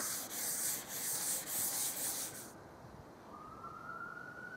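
A salvaged oak herringbone table top is sanded with a rhythmic, close rubbing and scraping for a few seconds before it stops, leaving a faint background with a distant siren rising.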